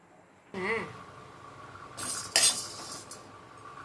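Dry chana dal is poured into a pan and dry roasted for idli podi, giving short bursts of rattling and clinking against the metal between quieter stretches.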